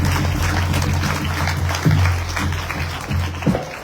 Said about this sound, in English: Give the Dharmacharya another big round of